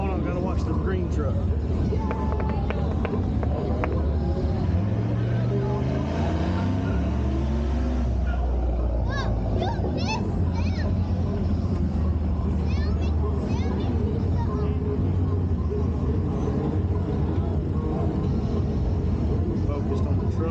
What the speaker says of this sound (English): Here comes the truck.